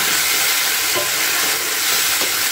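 Half-boiled potatoes sauté in spice paste in a pan for a tangra fish curry, a loud dense frying hiss that continues without a break.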